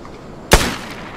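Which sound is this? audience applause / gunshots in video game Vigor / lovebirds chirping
gunshots in video game Vigor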